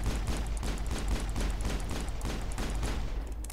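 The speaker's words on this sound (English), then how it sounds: "Oh, that's not a shotgun. That's a machine gun." Rapid sustained machine gun fire in Mass Effect, a dense, loud stream of shots with a rhythmic stutter running continuously and no speech over it.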